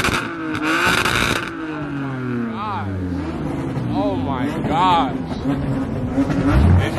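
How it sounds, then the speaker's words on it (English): A BMW M340 at a car show gives several throttle blips, the engine note sweeping up and down in quick rises between louder crowd noise and nearby chatter. "Gonna give us a couple revs at an M340."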